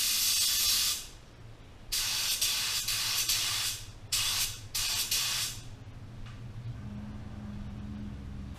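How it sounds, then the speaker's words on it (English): Hellraisin Metallic Dodge paint sprayed onto a test speed shape, several loud close hissing bursts of the spray gun separated by short pauses, with a low hum in the background and no talking. "Let's just spray it on that speed shape and put some clear coat"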